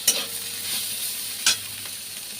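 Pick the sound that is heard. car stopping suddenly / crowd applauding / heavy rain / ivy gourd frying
ivy gourd frying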